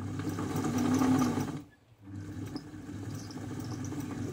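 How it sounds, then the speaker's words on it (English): Singer Model 527 sewing machine running under foot-controller power, a steady close motor buzz with a whirring mechanical rumble that briefly cuts out near the middle and then resumes. "We'll hear a buzz. That's a good sign."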